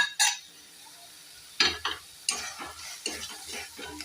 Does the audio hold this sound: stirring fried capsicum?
yes